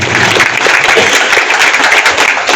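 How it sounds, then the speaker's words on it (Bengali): Loud, steady applause from a crowd at a Bengal awards ceremony honouring Madhyamik and HS 2025 toppers, continuous dense clapping filling the whole moment with no pauses. "ওনাদের দুজনের জন্য একটা জোরে করতালি দেওয়ার জন্য অনুরোধ করবো সবাইকে"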